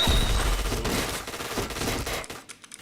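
Dense bursts of rapid gunfire from a shooter video game fill the clip, loud and nearly continuous before cutting out near the end, with no voices.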